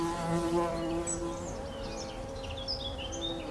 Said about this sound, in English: It sounds like buzzing. A very busy buzzing.